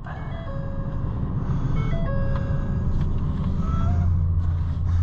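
A 1961 Ford F-600 grain truck's gas engine running in cold weather, a steady close rumble that holds even throughout, with a few faint tonal squeaks and beeps above it.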